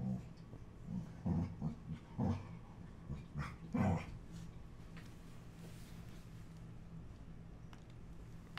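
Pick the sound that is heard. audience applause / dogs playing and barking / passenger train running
dogs playing and barking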